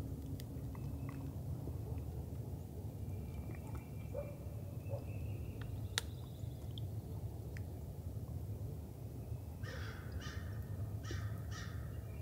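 A crow caws near a Georgia turkey pasture, giving a short run of four harsh calls toward the end. The calls are distant and fairly faint over a low, steady outdoor rumble, with no talking.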